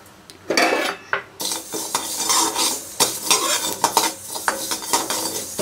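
Whole finger millet grains being stirred and dry-roasted in a pan, with repeated scraping and rattling strokes of a spoon against the metal, close and fairly loud, in irregular bursts.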